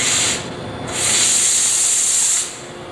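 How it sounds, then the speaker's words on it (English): Pressurized steam hissing out of an espresso machine's steam pipe, a loud broadband rush in two bursts: a short blast, a brief dip, then a longer sustained jet that cuts off near the end. "This knob is used and turned to the left to force steam out of the pipe underneath it."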